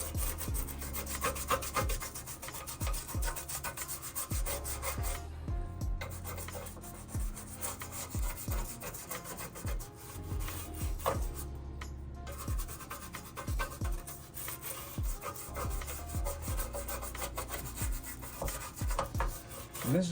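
A normal bristle brush scrubs parts of a 1987 Buick Regal Limited Turbo in a steady run of close, dense rubbing strokes, with a couple of brief pauses.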